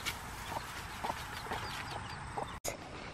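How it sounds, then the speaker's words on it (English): Mother hen clucking among her baby chicks on a farm, a series of soft evenly spaced clucks about every half second over faint background noise, with a brief dropout near the end. "Time to feed mama and the baby chickies."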